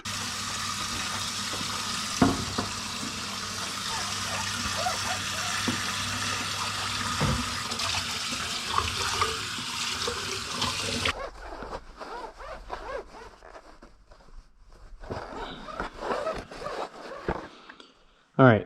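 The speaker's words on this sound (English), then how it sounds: "So now I'll just wash this out." Water splashing and rushing as a dusty junkyard car headlight housing is rinsed out, a steady broadband wash that cuts to quieter intermittent trickles and splashes partway through.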